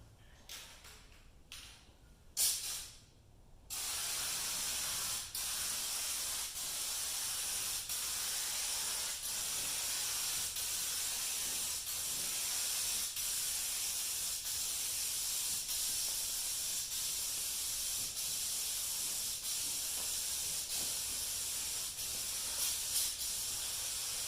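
Rust-Oleum Turbo spray paint hisses steadily from an aerosol can as a second coat goes onto a car hood, a continuous close spray lasting about twenty seconds after a few brief clicks and bursts at the start.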